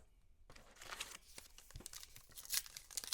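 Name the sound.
foil trading card pack being cracked open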